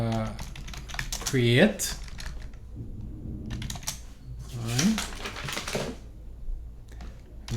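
Keys clatter on a computer keyboard while a command is entered in a terminal, a fast rattle of close clicks running steadily beneath a man's spoken instructions.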